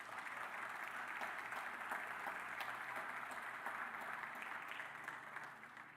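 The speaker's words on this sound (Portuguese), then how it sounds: "Você pode aplaudir a Deus por isso?" A church congregation applauds steadily during a sermon, dense clapping sustained throughout before beginning to fade near the end.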